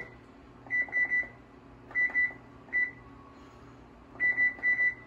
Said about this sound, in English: And all we're going to do is preheat our oven.